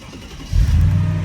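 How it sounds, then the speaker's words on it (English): A 2003 Mercedes-Benz SL55 AMG roadster's V8 fires up at close range, a brief crank followed by a sudden deep, loud rumble that settles into a steady low engine drone. "We're going to fire up this monster V8."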